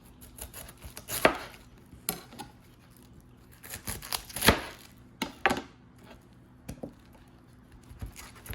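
A knife chopping cabbage on a board, irregular sharp chops in small bursts with pauses between, close and clear with no talk.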